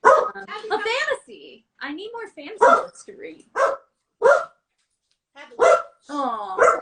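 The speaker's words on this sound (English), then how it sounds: "that's my dog, you guys. She's probably about to start barking" A dog gives several short, sharp barks in quick bursts, mixed in with a person talking nearby in an indoor setting.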